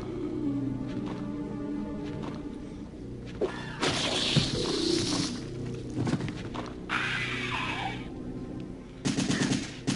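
Gunfire in the video game Resident Evil 3: Nemesis, bursts of rapid shots with a crash and growling creature noises, dense and loud with no talk over it.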